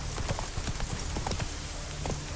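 Roach the horse galloping in The Witcher 3, a quick, rhythmic clip-clop of hooves with steady, faint beats over continuous background noise.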